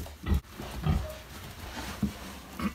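A pig on a farm, undergoing artificial insemination, gives several low, close grunts at irregular moments over a quiet barn background.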